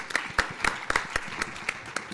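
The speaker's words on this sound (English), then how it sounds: "Everybody, round of applause for Brian." Sparse, scattered hand claps from a small group, about a dozen sharp claps at an uneven pace, fairly close by.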